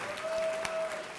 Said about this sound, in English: let's give Reverend Sharpton a round of applause for what he has built